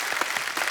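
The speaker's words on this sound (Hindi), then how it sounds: "तालियां और जोर से होनी चाहिए जरा" Studio audience applause at a comedy talk show, a brief burst of clapping with a few sharper claps standing out, fairly steady and moderately loud, with no voices over it.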